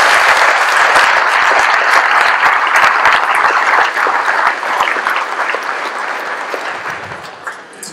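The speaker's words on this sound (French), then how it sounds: "je voudrais qu'on les applaudisse" Sustained applause from a crowd at a departmental firefighters' gathering in Questembert, dense clapping throughout that gradually thins and softens toward the end, with no talk over it.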